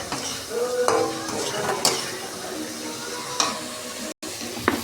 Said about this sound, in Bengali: মশলা ভাজা হয়ে গেছে